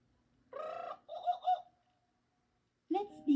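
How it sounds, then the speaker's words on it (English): A jungle bird call from a children's read-along record, heard as short bursts of warbling, clucking cries with a pause between calls, close and clear against a quiet background. "You will know it is time to turn the page when you hear the jungle bird"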